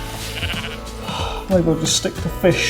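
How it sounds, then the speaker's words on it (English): Ewes with newly born lambs bleat repeatedly in the background, clear and insistent, while someone speaks over them at close range. "You can probably hear the sheep in the background."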